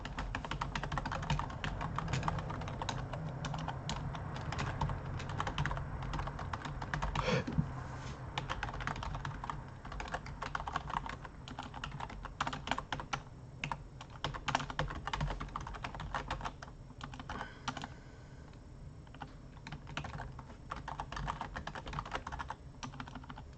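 Continuous clicking of keys on a computer keyboard, typed in quick, uneven bursts over a low background hum, fairly close and moderately quiet.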